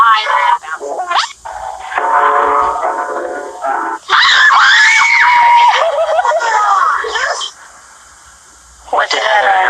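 Frightened people scream loudly in bursts on a scary tape, shrill cries rising and breaking off, with a brief quiet gap before one more scream at the end.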